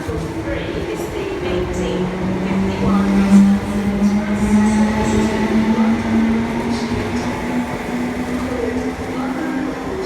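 A train rumbles into platform 3 at a station with a steady low hum and brake whine, while an announcement voice speaks over it.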